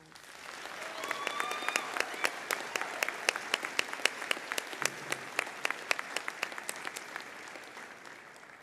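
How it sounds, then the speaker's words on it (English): A commencement ceremony crowd applauds steadily for several seconds, with dense clapping and a few louder individual claps standing out, plus faint scattered voices beneath. "Let's give them all a round of applause."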